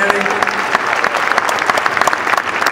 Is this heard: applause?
yes